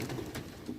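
Racing pigeons in the stock bird section of a loft coo softly and steadily at close range, a low murmuring chorus that swells briefly near the end, with no one speaking.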